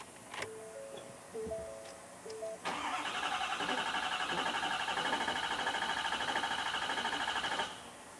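Ford F250 6.7L diesel truck, having run on DEF fluid accidentally put in the tank, cranking: a few short starter whirs, then a steady, loud rhythmic cranking drone lasting about five seconds before cutting off.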